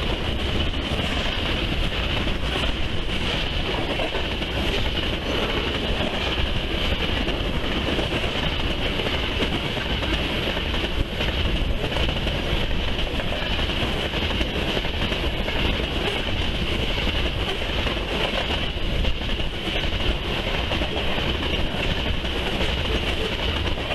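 A BNSF or Union Pacific freight train with an SD60 locomotive on the rear, rolling past in the Columbia River Gorge; a steady, continuous rumble of wheels and cars with clickety-clack and a faint squeal, unbroken and without talk.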